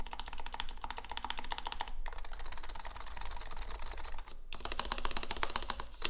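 Fast, close typing on a modded retro mechanical keyboard produces a dense clatter of crisp key clicks in three continuous bursts separated by brief pauses.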